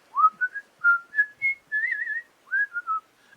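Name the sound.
whistling a merry tune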